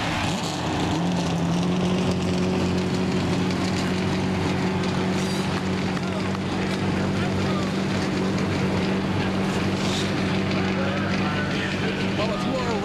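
A full field of 43 NASCAR stock cars fires up and roars at the 1999 Winston 500, a steady, dense engine drone with low droning tones holding throughout, loud and continuous.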